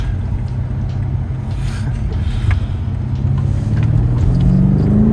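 A Tesla Model Y on the move, giving a steady low road rumble and engine-free drive hum that builds slightly toward the end, continuous and fairly loud inside the car, no talking.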